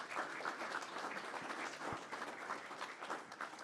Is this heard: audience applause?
yes